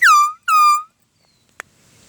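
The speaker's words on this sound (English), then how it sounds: "This is a Chinese horn." A Chinese-made air horn gives two short, loud, bright honks in quick succession, followed by quiet with a brief click.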